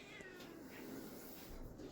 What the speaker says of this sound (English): You hear how angry this cat sounds